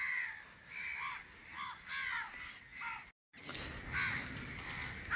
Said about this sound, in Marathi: किल्ल्यावर कावळे भरपूर आलेले आहेत आज.